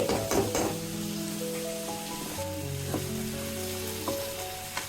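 Spice paste being sautéed in a pan for a Bengali crab curry, a steady close sizzle with a few stirring scrapes, alone with no talk; sustained tonal hum lines run underneath.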